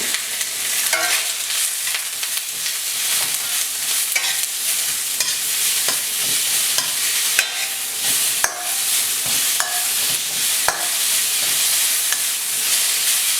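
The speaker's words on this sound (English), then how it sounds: "Just want to fry these, we don't want them too limp." Vegetables stir-fried over high heat with kosher salt and white pepper, a steady loud sizzle with repeated scraping stirs of a utensil against the pan throughout, no voices.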